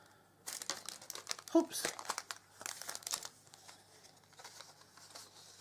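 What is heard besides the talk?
ripping open a package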